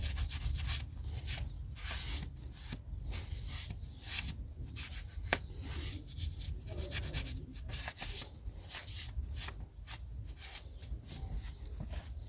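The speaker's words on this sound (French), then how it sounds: "on va nettoyer le tour du disque" Rag or pad rubbing and scrubbing the front brake disc of a Peugeot 3008 1.6 HDi, quiet rhythmic strokes repeating steadily, close up, with no talk.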